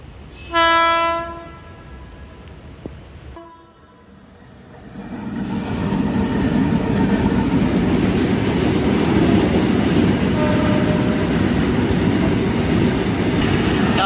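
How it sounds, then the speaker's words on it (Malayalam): A goods train hauled by a WAG-12 electric locomotive sounds a loud horn nearby, then rumbles past with a steady, growing roar of wagons on the rails in the rain on the Konkan Railway. "അത് വെച്ചിട്ട് ഒരു ഗുഡ്സ് ട്രെയിനാണ് പോകുന്നത്"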